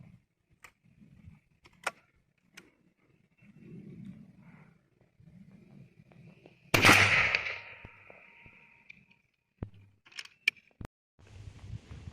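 A hunting shotgun fitted with a half choke fires a single loud, sharp blast outdoors, with a short trailing echo standing out between quieter stretches of faint background noise and small clicks.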